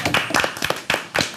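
A studio audience at a French music show claps, brief bursts of hand claps in uneven clusters rather than a long sustained ovation.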